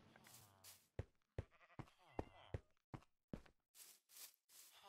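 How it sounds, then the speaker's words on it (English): Minecraft sheep bleating in a short run of clipped, repeated calls, several in a row with brief gaps, mixed with a few soft game noises and close, fairly loud. "There we go, that is a sheep."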